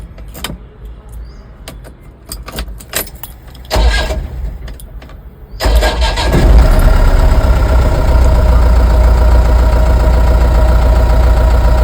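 A Mahindra Bolero pickup engine cranks and catches about halfway through, then settles into a loud, steady diesel-like idle that runs to the end, after a few faint clicks and a short burst of cranking.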